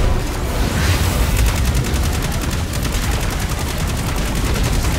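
Incoming missiles and heavy gunfire in the video game Destiny 2, a loud, continuous barrage of rapid blasts and booming impacts with deep low rumble throughout.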